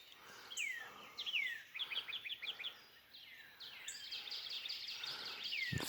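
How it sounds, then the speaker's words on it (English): Forest birds chirp and sing in the early morning, with repeated downward-sweeping calls and quick trills at moderate distance. Calls come in irregular bursts and overlap more densely toward the end, over a faint hiss of background ambience. No turkey gobbles stand out. "The sounds of the forest and the turkeys and the birds."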